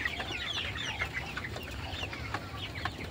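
A flock of farm chickens clucks steadily in a shed at dusk, overlapping calls rising and falling close by with no talk.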